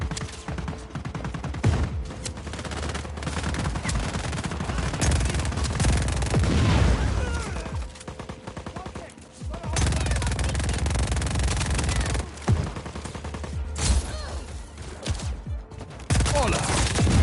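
Sustained gunfire and bursts of explosions from the video game Just Cause 4, loud and continuous throughout with heavy booms and rapid fusillades, briefly dipping before resuming.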